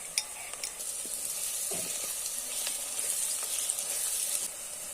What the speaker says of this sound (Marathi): कांदे थोडे परतून घेतल्यानंतर आपण लसूण टाकलेला आहे कुटलेला